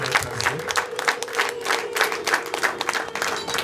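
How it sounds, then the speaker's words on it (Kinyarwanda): An audience at a Rwandan wedding claps in a steady rhythmic beat, with a sustained high wavering tone that may be ululation running underneath. "Mubashimirire, mubaha amashyi n'impundu,"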